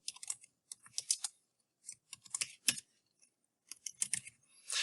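Quick bursts of close, crisp keystrokes on a computer keyboard while entering text in VCarve Pro design software, coming in short irregular runs separated by brief pauses, with no talking.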